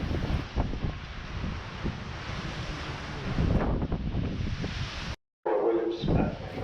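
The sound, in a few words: strong wind in Antarctica near Palmer Station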